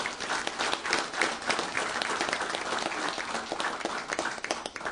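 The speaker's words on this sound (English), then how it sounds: "Let's give him a round of applause." A room full of people applauding, steady dense clapping throughout with no pauses, fairly loud and close.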